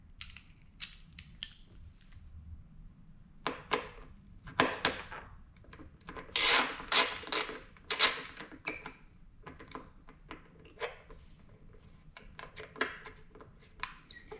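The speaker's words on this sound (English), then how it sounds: "Just below the speedometer on the respective side that you are going to be changing, we're going to remove that bolt right there." A bolt comes out from below the speedometer of a 2021 Yamaha MT-07 motorcycle with scattered metallic clicks, ticks and light scraping from a hand tool. The bursts are irregular and clustered, close but fairly faint, with no talk.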